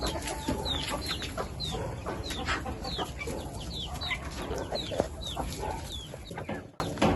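Chickens clucking and chirping steadily in an enclosed coop, with a constant busy murmur of birds close by.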